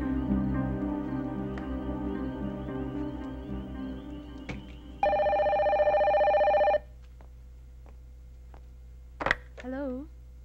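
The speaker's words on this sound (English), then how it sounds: "Mrs. Lorenzo, phone call from the Philippines." A telephone bell rings in one loud, steady electronic burst of under two seconds, following a droning background hum and ending in a short click.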